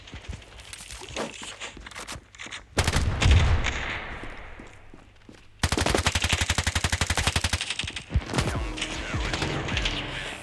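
Video game gunfire: scattered single shots, including a shotgun, then a loud sustained burst of rapid automatic fire, followed by more shots and clatter.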